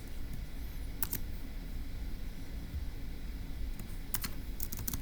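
Faint, sparse keystrokes on a computer keyboard, a few quick clicks scattered over a quiet background hiss.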